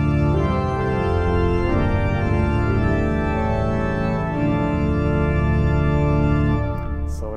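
An Austin pipe organ with five manuals sounds its grave mixture with the 32-foot stop added, giving a deep, heavy, sustained chordal tone that holds loud and steady before easing off at the end.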